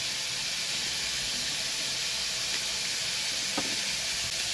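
Potatoes and poppy seeds frying in a pan for jhinge posto, a steady dense sizzle throughout, with a couple of faint clicks from stirring.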